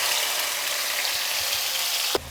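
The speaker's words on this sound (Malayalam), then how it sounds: "ഇനി നമ്മൾ ഇത് നല്ലൊരു ഗോൾഡൻ കളർ ആകുന്നത് വരെ ഒന്ന് വഴറ്റി കൊടുക്കണം" Onion, tomato and green chili sauté in a pan as a steady, close sizzle of frying crackle, with a brief clatter near the end.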